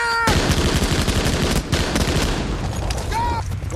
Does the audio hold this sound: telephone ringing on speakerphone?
no